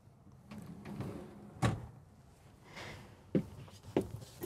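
Drawers opening and shutting inside a Winnebago Navion 24V motorhome: a sharp knock near the start, then two more clunks spaced about half a second apart, close by over quiet cabin background.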